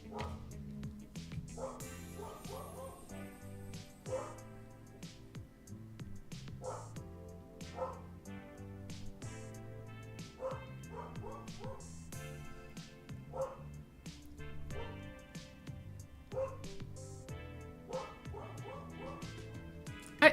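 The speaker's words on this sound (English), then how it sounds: "I apologize if you can hear the dog barking" A dog barks and yips repeatedly indoors in short bursts, some whimpering, fairly faint and at a distance, with someone talking over it.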